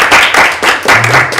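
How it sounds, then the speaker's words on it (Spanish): Bursts of clapping from an audience at an academic talk on digital educational materials, loud and close, several uneven waves of hand claps with a brief low hum underneath. "Un aplauso, por favor."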